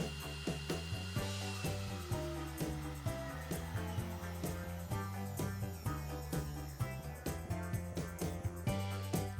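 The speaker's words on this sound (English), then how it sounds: "carry out the spindle break-in procedure" A Onefinity Apprentice CNC spindle running its break-in procedure, heard as a steady, close mechanical whir with regular rhythmic pulses and sharp ticks throughout.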